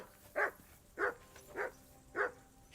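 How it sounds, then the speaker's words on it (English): A dog barks four times at an even pace in the World of Warcraft video game, each bark short and mid-loud against a quiet background, with no voices. "Jesus, Henry, that barking's driving me nuts."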